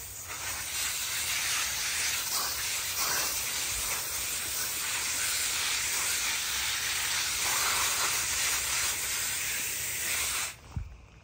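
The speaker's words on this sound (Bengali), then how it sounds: "আমি এখনো জল দিচ্ছি বন্ধুরা" A garden hose spraying water over a vegetable garden in the USA gives a steady, loud, broad hiss that runs unbroken for about ten seconds, then cuts off abruptly with a small thump near the end.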